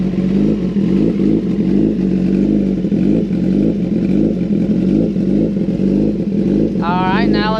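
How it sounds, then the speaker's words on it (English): A Kawasaki ZX10R Gen 6 motorcycle with a Sloth Performance flash idles steadily up close, a loud, even low rumble with a faint mechanical clatter, and a brief voice cuts in near the end. "here's the normal idle that they have going on"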